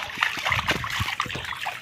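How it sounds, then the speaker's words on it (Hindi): People wade through floodwater deep enough to submerge vehicles, sending close, uneven splashes and sloshing swirls as legs push through the water, with a voice briefly audible. "इधर देखिए अब हम लोग फिर पानी में घुस रहे हैं।"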